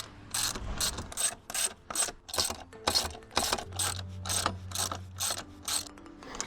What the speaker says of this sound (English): So now I'm gonna just secure the top, the side bolts, and this pretty much is done.